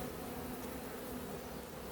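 Honeybees hum steadily and closely throughout as a laying queen is introduced to the colony, with a dense continuous buzz and no voices.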